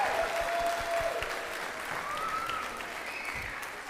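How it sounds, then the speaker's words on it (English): Applause from the audience at a middle school spring concert, a dense, steady wash of clapping at moderate loudness, with a few whistles rising over it. "Can we please give Mr. Perez another round of applause?"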